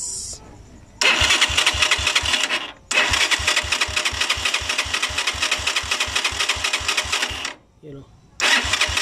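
Small engine running after a new spark plug is fitted, a loud rapid chugging pulse with two short cutoffs where it stops and restarts, brief talking in the background near the start.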